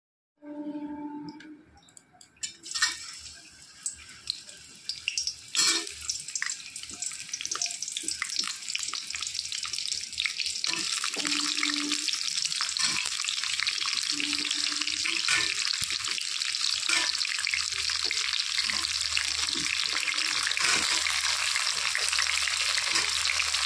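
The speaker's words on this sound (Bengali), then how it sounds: "এখন আমি পটলগুলোকে ভেজে নেব।" Pointed gourd (potol) sizzles steadily in hot oil in a wok, starting with a few scattered crackles and soon building into a loud, continuous fry that holds to the end with occasional clatter.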